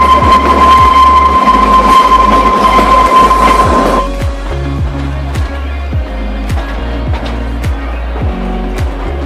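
Kalka Shimla Himalayan Queen Express, a mountain railway train, rolls loud and close on the rails with steady low rumble and rhythmic clickety-clack of wheels over rail joints, plus a high tone fading early on.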